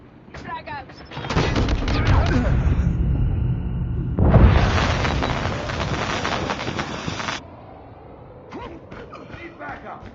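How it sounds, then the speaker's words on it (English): A frag grenade explodes in a first-person shooter game, a loud deep blast with a rumbling tail after a burst of gunfire, followed by sparse shots and game voice callouts. "Frag out."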